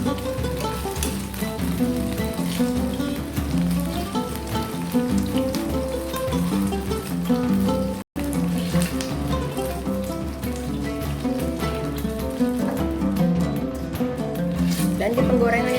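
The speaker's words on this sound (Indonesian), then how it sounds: "Dan di penggorengan yang sama, sekarang kita akan goreng bumbunya ya." Spice paste fries in the same pan just used for chicken wings, a steady crackling sizzle that runs the whole time, broken only by one brief silent gap midway, with tonal background sound layered over it.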